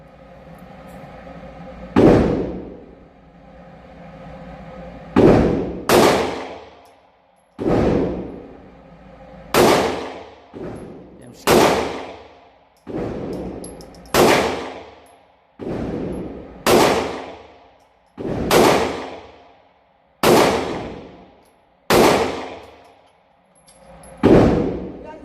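A smaller-recoil gun fires in a video game, with about a dozen loud, sharp shots spaced irregularly a second or more apart, each ending in a short decaying echo.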